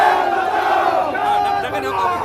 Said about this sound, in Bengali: দুই দলের কর্মীদের মধ্যে স্লোগান যুদ্ধ